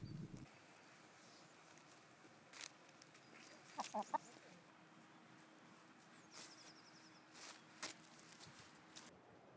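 A rooster clucks in short bursts inside a car amid a quiet, muffled background, with a few faint rustles and knocks nearby.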